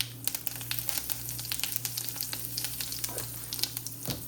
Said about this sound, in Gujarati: તેલ ગરમ થાય એટલે નાખીશું પહેલાં રાઈ, થોડીક જીરું,